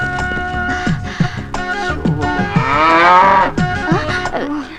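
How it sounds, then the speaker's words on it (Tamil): A water buffalo moos loudly and close by, giving a long, drawn-out lowing call with rough, throaty bursts and no other voices. "இது மாடு இல்லைங்க, எருமைங்க"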